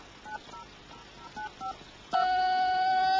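Buttons pressed on a mobile phone give a few faint, short key tones, followed by one loud sustained dialing tone that starts abruptly and carries to the end.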